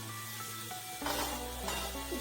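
Vegetables fry in oil in a kadai and get stirred, giving a soft sizzle that swells into a louder crackle halfway through, with a couple of scraping stirs, fairly close and without talk.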